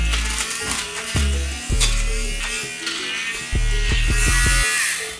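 A cheap electric lint shaver buzzing over a pair of sneakers to strip off sock lint, its motor whirring loud and close in repeated bursts as the blades catch and drag over the fabric.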